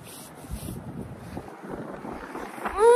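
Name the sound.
strong wind blowing outdoors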